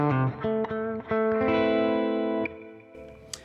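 Electric guitar played through a clean Fender-style amp model: a few ringing strummed chords and single notes, fairly bright and sustained, then fading to a quiet tail with a small pick click at the end.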